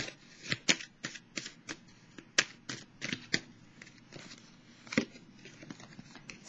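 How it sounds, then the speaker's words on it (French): Tarot cards shuffled and drawn for a Virgo reading: crisp, close riffling snaps and flicks, a dozen or so sharp card hits at an irregular, quick rhythm with soft papery rustle between them, no voices. "Je vais piger une carte pour celle des fourmis"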